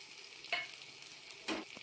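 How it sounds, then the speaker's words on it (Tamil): Onions fry quietly in a pan as crushed garlic goes in, a soft low sizzle punctuated by two sharper bursts of crackle and stirring. "இப்போ இந்த வெங்காயம் லைட்டா ஃப்ரை ஆனதும் நம்ம இடிச்சு வச்சிருக்கிற பூண்டு சேர்த்திக்கலாம்."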